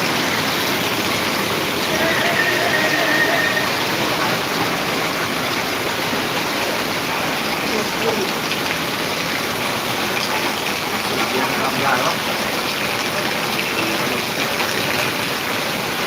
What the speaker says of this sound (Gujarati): એટલો વરસાદ પડ્યો